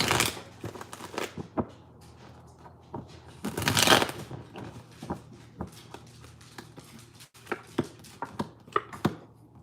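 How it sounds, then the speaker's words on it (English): Playing cards shuffled by hand during a live tarot reading, a run of soft riffling and snapping bursts with one louder flurry near the middle, close and fairly quiet with no talking. "I'm going to pull some playing cards and see."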